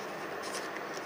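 Origami paper being folded and creased by hand while making a racing broomstick model, producing a continuous close, soft papery rustle and scraping throughout.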